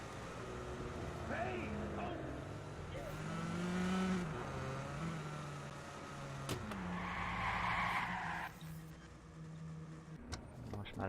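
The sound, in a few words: car driving in the video game Watch Dogs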